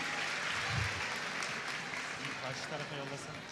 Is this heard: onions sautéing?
no